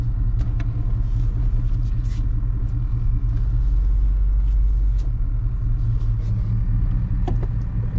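A Chevrolet OBS truck's engine rumbles steadily and loudly from inside the cab while driving, a continuous low drone with no speech over it.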